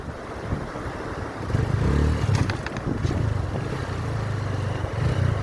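A motorcycle rides a rough, rocky road toward a rural sitio, its engine droning low and steady with louder straining surges and rattling scrapes midway, close and continuous.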